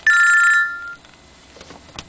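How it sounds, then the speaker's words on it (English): A telephone bell rings loudly in a short burst inside a 2004 Corvette during an in-dash install, then stops, leaving quiet room noise with a couple of faint clicks. "Telephone ringing."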